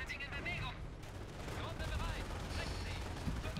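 Dense gunfire and heavy artillery thuds from a Company of Heroes battle roll on continuously for a few seconds, with rattling bursts layered under someone talking.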